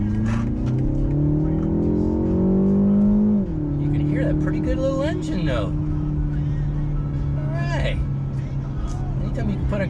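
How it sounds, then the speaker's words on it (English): A 2020 BMW 228i xDrive Gran Coupe engine revs up in sport mode and settles into a loud, steady drone, with someone talking over it throughout. "You can hear that pretty good little engine note."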